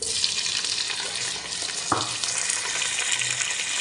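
Sliced onions frying in a pan, a steady dense sizzle and crackle with a brief clack of a utensil partway through, close and continuous with no voices.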